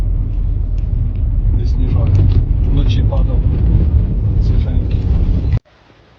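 Snowmobiles climb a snowy mountain road toward the foot of Hoverla, a loud, close engine rumble mixed with wind buffeting, with people talking over it before the noise cuts off abruptly near the end.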